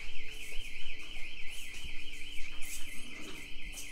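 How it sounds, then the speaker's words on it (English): Electronic alarm triggered by a pressed alarm button at a post office, wailing continuously with a warbling, oscillating tone that stays loud and steady throughout, with some background noise beneath it. "She seriously hit the alarm button."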